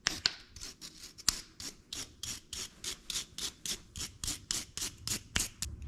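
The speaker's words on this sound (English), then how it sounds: "We're just going to use a brass brush to kind of clean up all the corrosion off of them." A brass wire brush scrubs corrosion off steel dowel pins during a Nissan 300ZX engine head upgrade, in quick rhythmic back-and-forth rasping strokes, close and steady with no talking.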